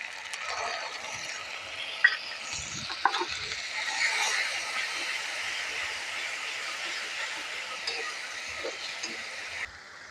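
Ginger paste and tomato paste frying in a pan with crushed cardamom and cinnamon for a vegetarian potato and pointed gourd curry, a steady close sizzle with a few clinks of stirring and no talk.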